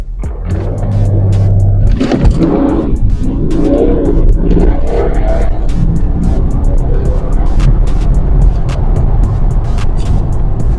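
A BMW 330D diesel saloon, a 250+ bhp Stage 1 tuned car, launching hard from a standstill. A low idle rumble gives way to a loud, deep engine roar that builds steadily as the car pulls through sustained acceleration, heard close up.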